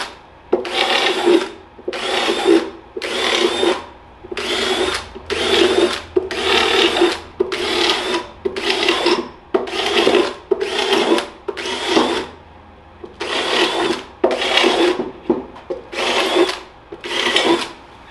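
A power drill with a large bit drills holes in repeated short bursts, about fifteen in a row, each a rising whir with grinding, separated by brief pauses, close and loud.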